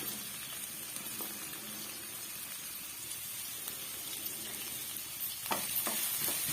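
Small pieces of chopped onion sauté in a pan with a soft, continuous sizzle, with a few louder stirring scrapes near the end, fairly quiet and up close.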